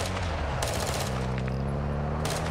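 Automatic gunfire in a Call of Duty Warzone 2.0 DMZ match, with dense bursts of shots that roll continuously over a steady low game rumble, loud and close.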